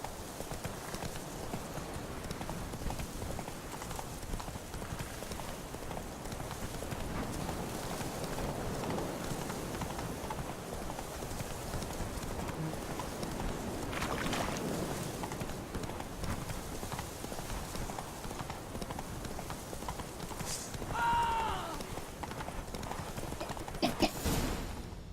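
Horse hooves gallop in a continuous rapid rhythm in The Witcher 3, a steady mid-distance drumming across the whole stretch, with a brief whinny-like call near the end.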